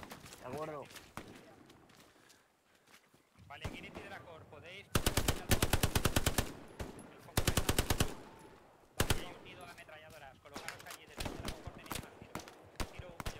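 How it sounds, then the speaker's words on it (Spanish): Rapid machine-gun bursts and single gunshots ring out in a nighttime defense battle in the World War II shooter Hell Let Loose, loud and close in long rattling volleys between stretches of players talking over radio. "disparo desde la carretera."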